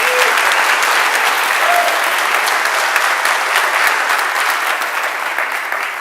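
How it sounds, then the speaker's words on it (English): A conference audience at PyCon Colombia applauds the organizers, loud, dense and sustained clapping filling the room for several seconds, close and even. "can we get a round of applause for everyone who's doing this?"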